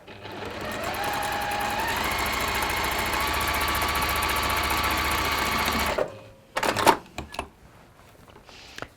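A sewing machine runs steadily for about six seconds, stitching down the corners of fabric with a rapid, even mechanical whir, then stops, followed by a few scattered clicks and handling knocks.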